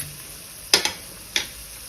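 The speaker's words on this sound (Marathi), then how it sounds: "शेंगदाणे छान भाजल्यानंतर गॅस एकदम बारीक केले दोन चमचा तीळ घातले" Sesame seeds tipped into a pan of roasting peanuts over low heat, giving a faint, low background sizzle broken by two short, sharp scrapes or rattles.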